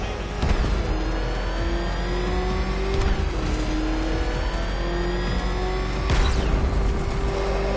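Car engine in a Batman video game revving steadily, a sustained mid-pitched drone with rising and falling pitch sweeps and a few sharper surges, loud and continuous with no talking.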